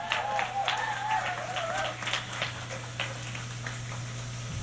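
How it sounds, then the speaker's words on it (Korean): An audience at a live music performance claps for a band member being introduced, a brief burst of applause that quickly thins out over a steady low hum. "박수 한번 주세요."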